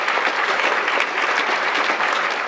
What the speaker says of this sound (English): Let's give them all a huge round of applause.